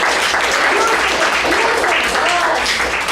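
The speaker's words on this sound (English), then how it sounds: "can we applaud him for the very good script?" Steady applause from a group fills the whole stretch, dense and continuous, with some voices mixed into the clapping.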